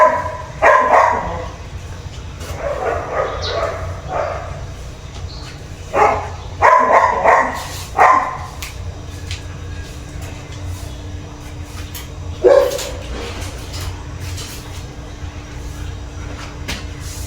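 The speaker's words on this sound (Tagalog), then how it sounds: "malalaki mga aso" Big dogs barking indoors in loud clustered bursts early on, then scattered single barks with a quieter stretch and a low steady hum underneath.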